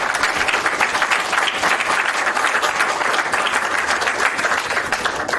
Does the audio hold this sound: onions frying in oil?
no